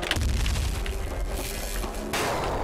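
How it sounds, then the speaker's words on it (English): Lightning cannon firing in Nuclear Throne, a loud crackling electric burst with a heavy low boom, dense and sustained for a couple of seconds, then a brighter hiss in the last moments. "Lightning cannon?"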